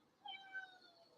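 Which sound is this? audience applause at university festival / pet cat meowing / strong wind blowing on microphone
pet cat meowing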